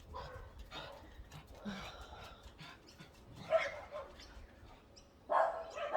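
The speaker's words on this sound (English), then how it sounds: "now the dogs are going to kick off because there's somebody walking somewhere" Several household dogs in a backyard bark and yip at a passer-by walking a dog behind the house, sporadic bursts at moderate distance with louder outbursts near the end, alongside faint voices.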